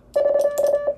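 Morse code CW prosign SK keyed as a steady mid-pitched tone, sent as a few short and long beeps in quick succession, clear and alone against silence.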